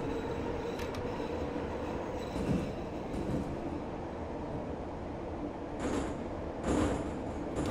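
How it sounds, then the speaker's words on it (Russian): Metro train cars rolling and rumbling along rails in Gmod Metrostroi, a steady mechanical clatter with brief metallic squeal bursts near the end as the wagons derail at low speed. "вот вагоны слетают с рельсов, блин."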